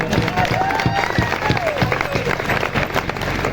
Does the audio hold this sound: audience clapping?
yes